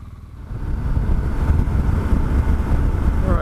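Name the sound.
motorcycle riding on a road in the Florida Everglades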